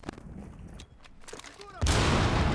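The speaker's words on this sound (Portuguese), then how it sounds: "tá rolando muito tiro aí, eu não vejo ninguém" Gunfire in the video game Rainbow Six Siege, a few faint distant shots and footsteps, then a sudden loud burst of firing near the end, with players' voices talking over it.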